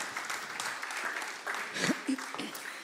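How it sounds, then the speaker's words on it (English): An audience at a poetry gala applauds, a soft, fairly distant wash of clapping that runs throughout while a presenter's voice speaks briefly over it. "I'd like to welcome back, with a round of applause, ladies and gents, Zos Ntuli, Candace Muleshe,"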